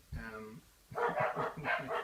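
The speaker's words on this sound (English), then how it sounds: "so the dogs are going crazy" A dog gives a short yelp, then a quick run of excited barks, close and loud, with other dog voices mixed in.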